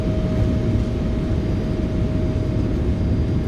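Boeing 777F thrust reversers deployed on landing in a flight simulator game, a steady loud low roar of engine and rollout noise with a faint constant tone, no talking.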